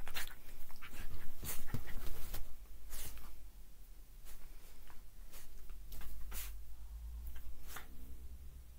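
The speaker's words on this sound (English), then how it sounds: "we can just watch my dog go mental" A dog pants and plays excitedly close by, with quick breaths, snuffles, brief whimpers and sharp thumps and scuffles coming in irregular bursts.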